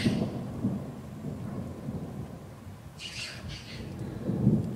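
Low thunder rumbles steadily during a storm in Valencia, fairly distant and subdued, with rain underneath and brief bird squawks cutting in partway through.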